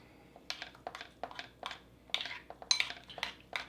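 Spoon stirring a Russian expedition field ration meal in its container after water is added, giving a quick series of light scraping clinks and rustles, fairly close and moderately loud, with no talking.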